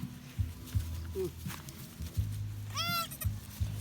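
Goats on a farm give a single clear, wavering bleat nearby, set against soft thumps and background rustle, with other faint animal and human sounds around it.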